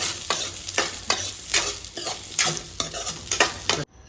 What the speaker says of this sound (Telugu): సో బ్రౌన్ వచ్చే వరకు మనం అలా వేయించుతూనే ఉండాలి